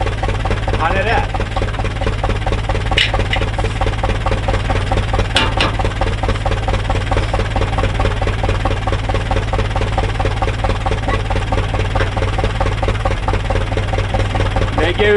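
A tractor engine idles in a steady, close chugging drone with a faint knocking vibration, and someone talks over it.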